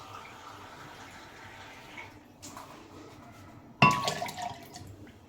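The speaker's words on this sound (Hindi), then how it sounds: "तो हमने 2 कप दूध डाल दिए और 2 कप पानी डालेंगे" Water is poured into milk in a kitchen for besan halwa, a soft trickling and splashing near the end after a quiet stretch, close and brief with no talk.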